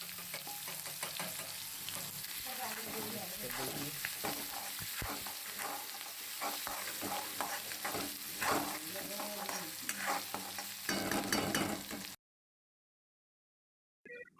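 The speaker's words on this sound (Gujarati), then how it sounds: "પછી એમાં આપણે જે મરચાં સમાર્યા હતા એ નાખી દઈશું આપણે અને બરાબર એને મિક્સ કરશું" Chopped green chilies sizzle and fry in a pan for a Kathiyawadi-style tempered bajra rotla, with a steady crackling hiss and repeated scraping stirs close up, cutting off abruptly near the end.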